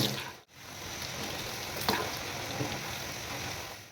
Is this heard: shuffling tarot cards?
no